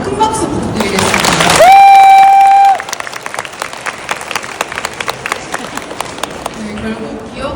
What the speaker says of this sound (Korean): 두 분께 다시 한번 큰 박수 부탁드리겠습니다.